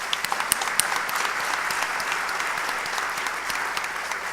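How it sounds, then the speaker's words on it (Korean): A congregation at a Sunday evening church service claps in thanks, a sustained round of many hands with a few sharp nearby claps standing out, steady and unaccompanied by speech. "우리 하나님께 영광 돌리고 감사의 박수를 한번 합니다."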